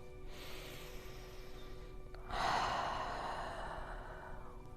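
A slow, deep breath near the microphone during a quiet yoga session, a soft airy inhale followed by a longer, louder exhale that gradually fades.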